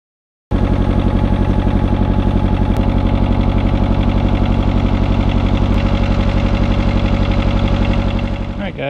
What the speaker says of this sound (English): I'm gonna take the excavator and load it up on the trailer